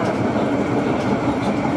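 An A-class tram runs on the St Kilda light rail line in Melbourne. Its steady, loud rolling rumble and track noise go on without a break, and nobody talks.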